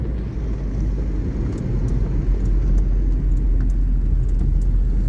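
A 1980 Renault 6 TL FASA car driving, a steady low engine and road rumble continuing throughout at close range, with no talk over it.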